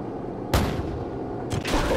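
AC-130 gunship cannon fire and explosions in Call of Duty 4, with two heavy booming blasts about a second apart that roll and rumble loudly over a low background.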